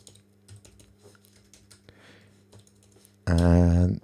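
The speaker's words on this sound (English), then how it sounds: "it was possibly a bad idea to include typing in my episode" Computer keyboard typing in close, quick, irregular clicks of keys at a desk while playing Minecraft, followed by a loud, harsh buzzing tone that abruptly covers the end.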